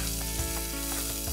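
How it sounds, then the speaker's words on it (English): Sliced onions with curry leaves sauté in a pan for masala dosa filling, giving a steady, close hiss of sizzling and frying with faint stirring scrapes and no talking. "Saute the onions till they become nice and translucent."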